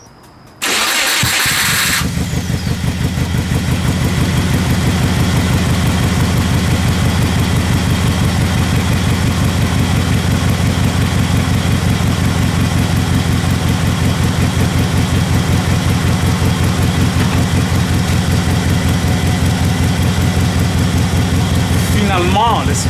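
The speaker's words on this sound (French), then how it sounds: "Le moteur roulait, le idle était un peu rough." After a brief initial clatter, a car engine catches and settles into a loud, close, rough idle with a steady pulsing chug that continues unbroken.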